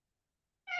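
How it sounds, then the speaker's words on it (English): A friendly cat gives a single short meow that starts abruptly near the end after near silence, fairly close and clear. "We've got this cat."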